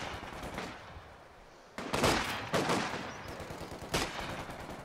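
Soldiers trade rifle and machine-gun fire in the Company of Heroes 2 war game: sharp, separate bursts and single cracks go off at irregular intervals, some close and some farther back.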